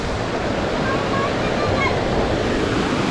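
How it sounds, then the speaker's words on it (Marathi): A monsoon waterfall at Morbe dam near Panvel roars as a steady, dense wash of falling water, loud and close throughout. "मित्रांनो हा आहे पहिला वॉटरफॉल तर बघा"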